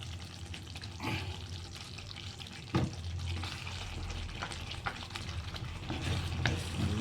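Mushroom masala stirred as it fries in a pan: a steady low sizzle runs throughout, broken by scattered scraping strokes of the spoon, one sharper clank near the third second, no talking.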